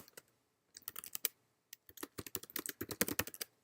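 Notes being typed on a computer keyboard, heard as a few short bursts of quick key clicks with brief pauses, close and quiet, with no talk.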